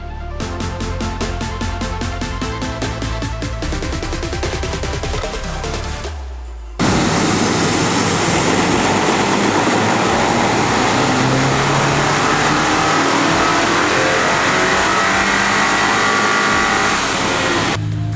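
Honda Accord fitted with an FL5 turbo engine roaring loudly and steadily on a dyno, a fast rhythmic mechanical pulsing at first giving way to a sustained, dense full-throttle drone close to the microphone with no talk.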